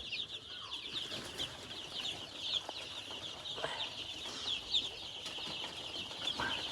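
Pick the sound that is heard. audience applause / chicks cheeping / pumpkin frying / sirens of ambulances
chicks cheeping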